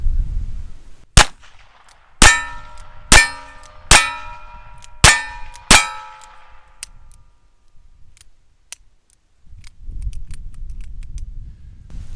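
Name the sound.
Ruger Wrangler revolver fanned, shots hitting a target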